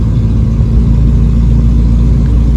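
A car engine droning steadily as the vehicle descends a steep canyon road beside a cliff edge, a loud continuous low rumble with no speech.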